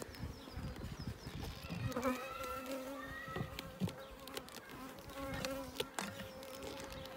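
Honeybees buzz around an opened horizontal beehive as the lid is being closed, a steady close droning hum of many insects with scattered sharper knocks and thumps of hive handling.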